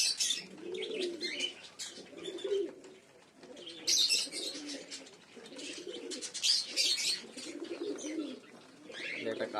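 Pigeons in a loft of flying and fancy birds coo in repeated soft, rolling phrases close by, with sharper chirps and rustles between them, continuing steadily throughout.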